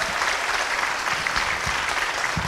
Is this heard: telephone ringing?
no